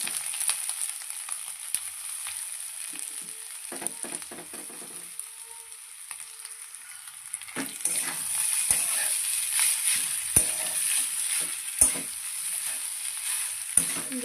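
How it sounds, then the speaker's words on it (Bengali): Banana stem frying in oil with mustard seeds and nigella seeds, quiet spitting and crackles at first, then a louder, fuller sizzle with sharp pops after the stem is added, close and without voices. "এবার আমি থোড়গুলো দিয়ে দেবো তেলের মধ্যে।"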